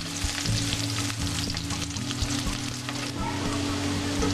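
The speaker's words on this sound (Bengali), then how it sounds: "পেঁয়াজ কুচি ভেজে নিব।" Chopped onions fry in hot oil in a pan for a Bengali mixed vegetable dish, a close, steady sizzle with frequent stirring scrapes and clinks throughout and no talking.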